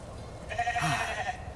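A single short bleat from a sheep in the video game The Alters, close and moderately loud, over a low rumbling background.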